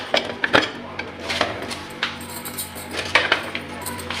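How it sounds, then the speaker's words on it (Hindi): Metallic clanks and clicks of a pressure cooker lid being handled and lifted after cooking lentils, several sharp knocks over a soft background hiss, close by. "अब हम कुकर को ओपन करेंगे।"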